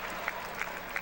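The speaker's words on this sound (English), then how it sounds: "He finally clapped." Sharp hand claps from a single person at a college basketball game between Harding and Arkansas Tech, three crisp claps spaced evenly against a steady crowd murmur.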